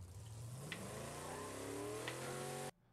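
A Mednex car in the video game State of Decay 2 revs its engine, pitch climbing steadily into a loud, sustained drone before cutting off abruptly near the end.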